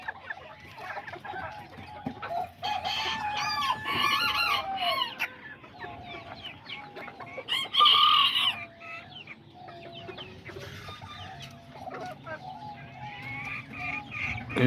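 Azteca roosters and hens in a backyard flock cluck and call steadily, with one loud close crow rising in the middle and more clucking around it, no one speaking.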